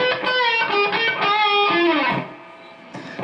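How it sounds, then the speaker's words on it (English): Electric guitar fill, with a short run of close, sustained notes and a bend, loud and alone for about three seconds. "There's another guitar fill, and it sounds like this."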